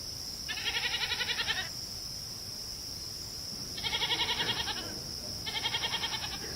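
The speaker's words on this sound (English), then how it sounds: "a man records a strange goat in the woods at night" A goat bleats in the woods at night in three separate, wavering calls, each about a second long with a pulsing tremolo. A steady high insect drone runs throughout, and there is no talking.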